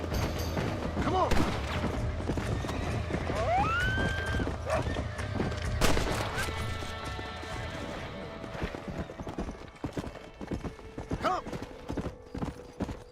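A horse in the Red Dead Redemption video game, rapid clip-clopping hoofbeats from a gallop with a whinny and scattered gunshots, heard under a man's speech.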